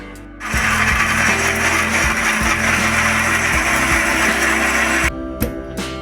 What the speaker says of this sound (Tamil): இது எல்லாத்தையும் மூடி போட்டு பேஸ்ட்டாக அரைச்சி எடுத்துகிட்டு வந்துடலாம்.